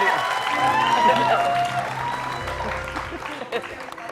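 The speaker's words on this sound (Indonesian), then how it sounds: "tepuk tangan untuk Fajri." A studio audience at a television show claps, a dense burst of applause that fills the room and fades slightly over about four seconds, with a voice speaking over it.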